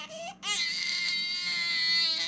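A baby in an animated French story cries close by, starting with a short whimper and then rising into one sustained, loud, piercing wail.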